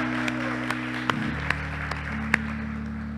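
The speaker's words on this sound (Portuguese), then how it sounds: "vamos aplaudir a Jesus essa noite, faça barulho a Ele" A church congregation claps and applauds together under steady, held keyboard tones, with a few sharper claps standing out above the dense wash.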